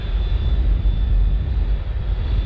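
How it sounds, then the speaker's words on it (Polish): A helicopter's engine fires up and runs for take-off near the Mäuseturm in Europe, a steady, loud low rumble and whine that holds throughout with no talking. "a tam jakiś koleś przygotuje się do lotu helikopterem. No i właśnie odpalił maszynę"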